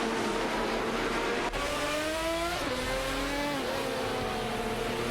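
A Lister Storm GT and other race cars in a racing video game rev hard and shift through gears, their engines whining loud and close without any voices.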